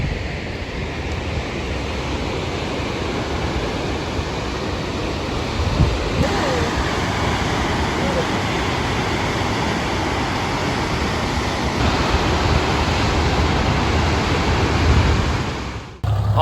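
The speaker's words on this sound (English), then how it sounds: "This first one here is a big waterfall called Gibbon Falls." Steady, dense rushing roar of Gibbon Falls, an 84-foot waterfall in Yellowstone, constant and broadband throughout, with faint wind buffeting.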